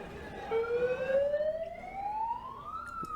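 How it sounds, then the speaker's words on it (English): A megaphone or bullhorn siren at a street protest gives a single rising electronic wail that sweeps steadily upward, heard from a moderate distance over faint street noise. "It's one of those megaphone, bullhorn and stuff."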